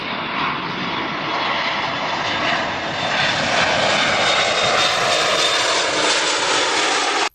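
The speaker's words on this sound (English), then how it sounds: "Here goes our plane" A loud, sustained airplane engine drone roars steadily overhead, broadband and unbroken, building slightly before cutting off abruptly at the end.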